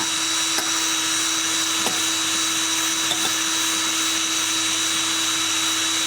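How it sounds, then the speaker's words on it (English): A cordless power drill mixes gluten-free egg noodle dough with a steady, even whine and a strong constant tone, broken by a few faint clicks and bumps, loud and close with nobody talking. "we thought, wonder if this would work using my drill, and it has"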